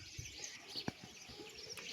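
A small sparrow chirps at its nest in a thorny bush, faint high tweets scattered over a steady outdoor background with one brief louder call.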